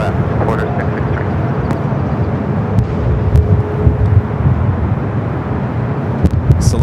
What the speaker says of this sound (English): 777 freighter rolling down to 25 left, China Southern Cargo.